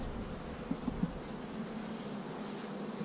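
Honeybees droning inside a hive, a steady low buzzing hum throughout with a few soft knocks early on, heard up close with no talking.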